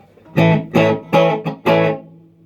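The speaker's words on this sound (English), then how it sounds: "I'm playing it rather clean so you can hear the guitar rather than the amp" Five strummed chords on a Vox Mark VI electric guitar ring out clean through an amplifier, each struck sharply and decaying, the last one sustaining and fading.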